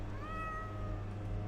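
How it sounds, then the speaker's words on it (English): A cat in The Excavation of Hob's Barrow lets out a single drawn-out meow, clear and fairly close over a low steady background hum. "That's the cat!"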